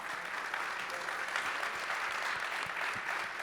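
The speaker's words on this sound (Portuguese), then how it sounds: "pedia também uma salva de palmas" An audience at a business talk event applauds with steady, dense clapping that holds for several seconds at moderate level, with no voices over it.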